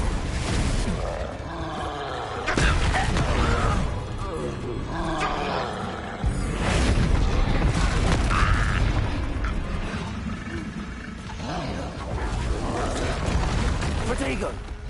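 Confringo blasting-curse explosion amid Hogwarts Legacy spell combat, sudden loud booms breaking through a dense, roaring battle din with creature roars and mechanical clatter, several blasts spread across the stretch.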